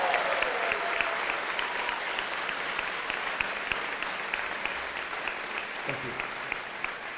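Large audience applauding steadily at the Denison University 2018 commencement ceremony, a dense, sustained wash of clapping from a big crowd that holds its level for the whole stretch.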